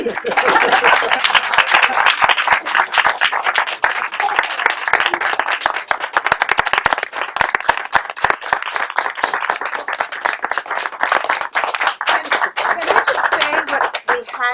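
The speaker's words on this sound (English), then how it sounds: "Claps? Yeah, applause." A small group claps continuously and fairly close by, sharp individual hand strikes forming a steady, lively patter over many seconds.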